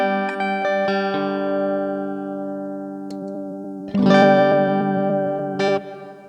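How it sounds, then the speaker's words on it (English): Sustained clean electric guitar chords from a Jazzmaster through a Marshall AS50 amplifier ring out with a shimmering, slightly effected tone, followed by a fresh strum near the four-second mark and another later. "Clean tones, a Jazzmaster Eventer through a Marshall AS50."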